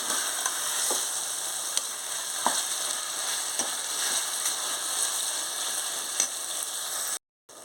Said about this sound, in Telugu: ఇప్పుడు కీమా వేసేసుకుంటున్నాను. కొంచెం బాగా వేగాలి.